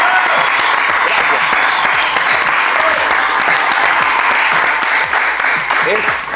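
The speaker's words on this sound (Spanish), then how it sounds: "Un fuerte aplauso, por favor, todo el público que está esta noche en el set" Studio audience on a late-night football analysis set gives a loud, sustained round of applause, dense clapping that holds steady for several seconds, with voices mixed in.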